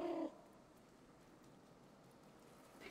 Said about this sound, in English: my cat is making a noise when I jump on something